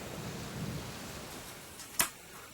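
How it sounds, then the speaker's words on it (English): Downpour and thunderstorm effect from The Witcher Adventure Game. Soft, steady rain hiss plays at low level, then a single sharp thunder crack strikes near the end. "A downpour. Dark clouds hang over you. The torrential rains make it impossible to get anything done."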